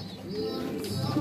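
Soft, low racing pigeon cooing close by, a steady murmuring coo over faint background noise, during training in San Jose, Nueva Ecija.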